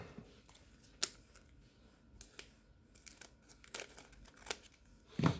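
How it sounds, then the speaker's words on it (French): Pokémon card booster pack wrappers crinkle and tear close up, a string of sharp crackles and rustles with quiet gaps between them, ending in a louder burst of crumpling. "Allez, il nous reste quelques boosters à ouvrir."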